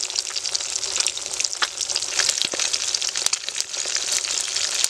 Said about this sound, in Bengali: এভাবে অল্প অল্প করে মাছ ভাজলে মাছটা আর ভাঙে না